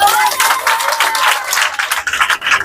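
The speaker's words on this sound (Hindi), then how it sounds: "जोरदार ताली हो जाए।" A congregation at a Hindi-language Christian sermon claps loudly, a dense burst of applause that stays strong and then thins into scattered claps toward the end.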